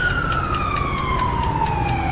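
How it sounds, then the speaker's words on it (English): Police car siren in the video game LSPDFR, a loud continuous electronic wail sweeping steadily downward in pitch, with a regular pulsing overtone pattern, close and alone with no talk. "I think as long as you have the sirens on"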